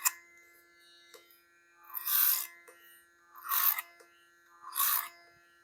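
Scissors snip through hair during a men's two-block haircut in a salon, three distinct crisp cutting bursts spaced evenly apart, close and clear against a quiet background with a faint steady hum.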